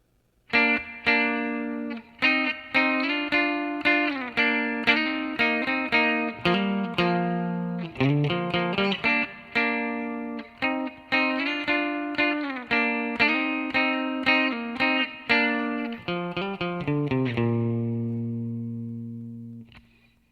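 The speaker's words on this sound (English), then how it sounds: "Then we're into the guitar solo. The solo sounds like this." A distorted electric guitar plays a fast, melodic solo with sustained bent notes, loud and close, ending on a long ringing chord.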